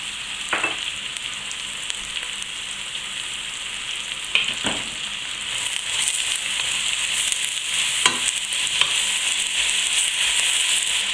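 Onions sizzle steadily in melted butter sprinkled with sugar for French onion soup, a close, continuous frying hiss broken by a few sharp pops and stirring scrapes.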